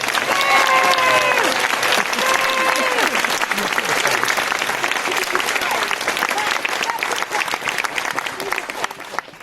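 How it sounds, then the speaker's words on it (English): An audience at the O2 Indigo in London claps throughout a political debate, a dense, continuous burst of applause with whoops, and people talking over the top. "No, start clapping again."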